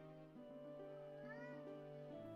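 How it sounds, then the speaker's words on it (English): A cat meows in a higher rising tone over steady in-game music with a held tone and stepped bass notes, near and fairly quiet, with no talk. "You guys hear him meowing?"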